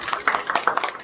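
Group applause for a presentation in a caregiving practical class, a short burst of dense clapping from several people lasting about a second.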